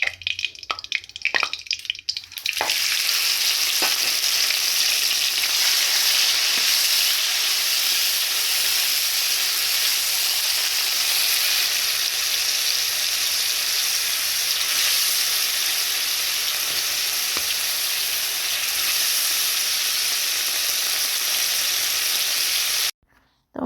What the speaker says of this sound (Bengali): এরপর চিংড়ি মাছগুলোকে খুব ভালো করে ভেজে নেব।